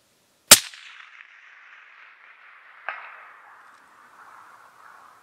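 A rifle fires once during long-range prone shooting from a rear bag: a sharp, loud crack with a bright ringing tail, followed about two seconds later by a fainter metallic ping of a distant steel target.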